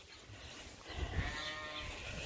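Sheep on a farm bleat in the distance amid a noisy outdoor wash of wind and rustle, the calls faint and partly masked.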